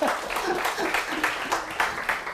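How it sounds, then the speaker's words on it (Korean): An audience at a university lecture on Chinese poetry breaks into brief, moderately loud clapping that runs steadily for a couple of seconds with no talk over it. "박수도 안 쳐줘요?"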